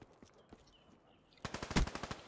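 Rapid burst of Weevil automatic gunfire in Call of Duty: Black Ops III, about a dozen close, loud shots in quick succession after a quieter stretch of scattered faint shots and game noise.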